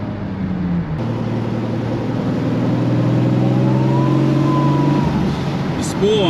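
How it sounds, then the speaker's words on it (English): A Toyota 2JZ engine in a Nissan 240SX street car revs loudly and continuously, its pitch climbing as the turbo spools up, ending with a brief high whine. "Spool on this thing is pretty damn fast."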